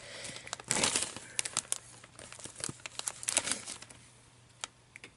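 Crinkly plastic rustling and crackling, with snipping and tearing bursts as a snack bag is cut open with scissors up close, no talking.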